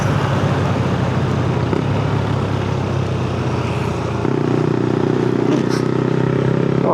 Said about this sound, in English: all the traffic is going into town right now